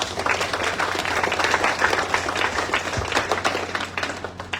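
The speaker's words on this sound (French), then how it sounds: "Et je vous demande à tous de les applaudir avec reconnaissance." Sustained audience applause fills a school centenary ceremony for École Léonce Mégie, with dense steady clapping from a large crowd throughout and no speech over it.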